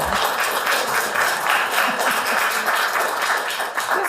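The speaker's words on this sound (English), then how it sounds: "Come on, I deserve applause too." An audience at a poetry and spoken word open mic claps steadily, a dense patter of hands that carries evenly throughout without pause and is moderately loud, with no talk over it.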